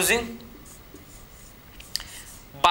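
Marker or chalk strokes on a board during a classroom lesson, a few short scratchy scrapes spread across a quiet room with faint background noise, the loudest near the start and end.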